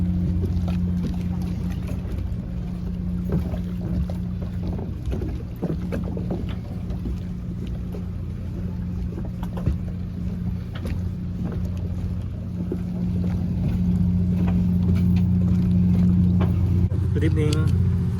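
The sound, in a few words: boat boarding at a coastal resort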